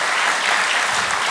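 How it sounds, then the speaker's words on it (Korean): Applause for Pastor Seo Im-jung at a church leadership installation ceremony in Pohang, a dense, steady clapping from the gathered crowd that fills the whole short moment. "우리 서임중 목사님께 위로의 박수 한번 보내드립시다"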